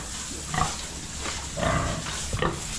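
Pigs in a pen grunt and oink in several short bursts over steady low farmyard noise, fairly close and moderately loud.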